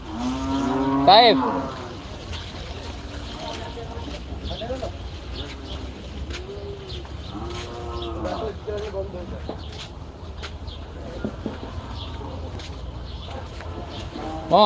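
A cow gives a loud, drawn-out moo early on, followed by several more lowing calls from cattle amid a busy outdoor cattle market crowd in Gabtoli with people talking.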